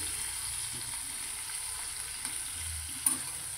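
Small onions frying in a pan, a quiet steady sizzle with a few soft stirring knocks and one sharp clink near the end.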